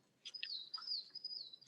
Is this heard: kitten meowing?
no